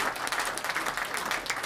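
An audience at a business launch meeting breaks into steady, dense applause, many hands clapping at once at moderate volume with no pause.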